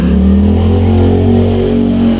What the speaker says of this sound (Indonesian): ini ada suara motor